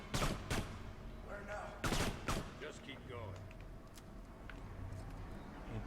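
Rapid bursts of gunfire from the video game Kane & Lynch 2, loud sharp volleys early on followed by scattered lighter shots, with voices talking over the action.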